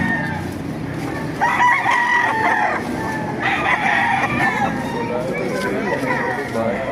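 Roosters crow repeatedly at a chicken market in Baliuag, Bulacan, two long calls standing out over a busy background of voices and clucking fowl.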